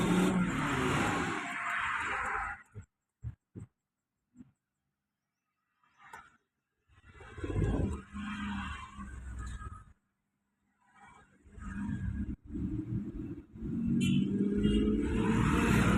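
A car driven forward by a learner, with engine rumble swelling and cutting off in bursts, several brief clunks, then a sustained engine drone building toward the end, fairly near.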